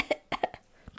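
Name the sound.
cough imitated by the narrator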